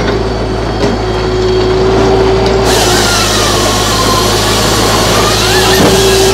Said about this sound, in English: When he pulls down, that runs the saw.